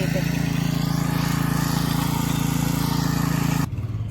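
A small tractor working a farm field, its engine chugging loudly and steadily with a rhythmic low throb close by, then cutting off abruptly near the end.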